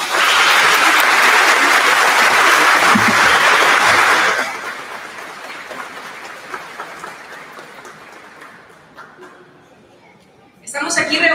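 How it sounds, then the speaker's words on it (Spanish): Strong applause at a formal accountability ceremony lasts about four seconds, then fades into scattered claps and murmuring as the room settles, with a brief burst of noise near the end. "lo cual les pido un fuerte aplauso."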